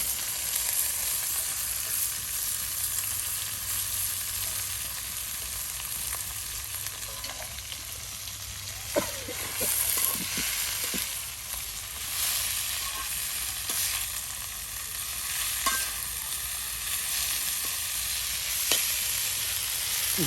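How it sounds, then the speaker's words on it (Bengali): Radish greens being fried and stirred in oil in a traditional village kitchen, giving a continuous close sizzle with occasional scraping and tossing clicks from the stirring, steady and without voices. "দেখুন মূলা শাক ভাজি এখন তেলের সাথে সুন্দর করে শাক পাতাগুলো মিক্সড করে নেওয়া হচ্ছে।"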